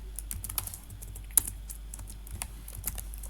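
Code typed on a computer keyboard: quick, crisp key clicks in irregular bursts, close and fairly loud, with one sharp louder tap, over a low steady hum and no talking.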